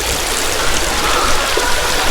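River water flows and rushes steadily, a loud, continuous broadband wash of a stream with no pauses and no voices.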